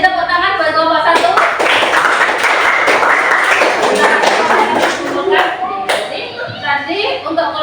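Classroom of students clapping for group 1 during a coding and artificial intelligence lesson, loud, busy hand claps building and thinning out, with children's voices in the mix.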